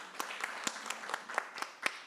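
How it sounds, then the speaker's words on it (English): A brief, fairly faint round of applause at a conference on early and unintended pregnancies in Eastern and Southern Africa, with sparse distinct claps from a small audience. "Another round of applause for Jenny."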